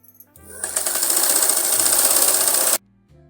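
Close up, a sewing machine runs one continuous burst of stitching on a tailored garment seam, starting and stopping cleanly after about two seconds.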